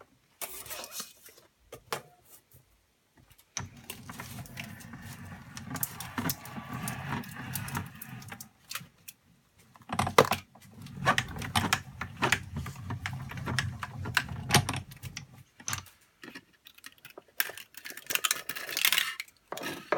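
A hand-cranked die-cutting machine rolls a 3D origami cutting die through, producing rumbling, clicking and scraping in two long passes with short pauses, close and moderately loud.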